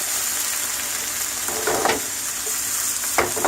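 Food sizzles steadily in a pan while cooking down for beef Wellington, with a few soft scrapes of stirring rising over the constant hiss, close and clear.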